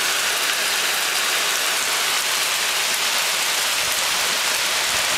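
Heavy tropical rainy-season rain pounds steadily on a hut, a dense, unbroken hiss that stays loud throughout with no voices.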